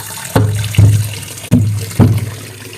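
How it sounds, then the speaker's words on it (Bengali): Water splashed over guavas while washing them, four separate gushes that each start abruptly and trail off, close and fairly loud with no talk. "এবার পেয়ারাগুলোকে ভালো করে জল দিয়ে ধুয়ে নেব।"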